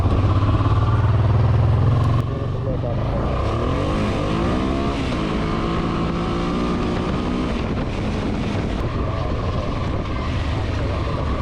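A Honda XL700 motorcycle engine drones steadily while riding on a gravel road, with the pitch rising as it accelerates. Wind and road noise run underneath, close and continuous.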